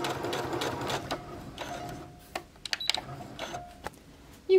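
A sewing machine stitches a drawstring bag seam and backstitches at the end, with quick bursts of mechanical whirring and clicking separated by short pauses, close and fairly quiet.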